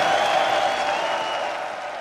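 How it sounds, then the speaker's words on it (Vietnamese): Audience applause at a national beauty pageant final for Miss World Vietnam 2023 at Merryland Quy Nhon, a dense steady patter of clapping from a large crowd that tapers off slightly. "Một tràng pháo tay nữa thưa quý vị dành đến cho"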